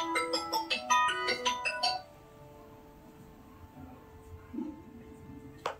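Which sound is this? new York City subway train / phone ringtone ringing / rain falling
phone ringtone ringing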